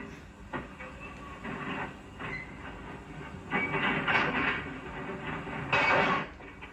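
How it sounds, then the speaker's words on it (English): Freight cars in a 1950s rail yard are coupled together, giving a run of rattling, clanking bursts and rolling rail noise at moderate distance, with several louder jolts spread through the sound. "A brakeman couples together the cars for our train."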